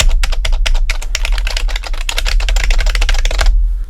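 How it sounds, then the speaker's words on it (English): Plastic keys of a Korg nanoStudio compact keyboard clack rapidly with its sound turned down, a steady typewriter-like patter of close, crisp taps for nearly four seconds, then stopping abruptly. "the keys are, I'm just turning down the sound so you can just hear the keys while I do this"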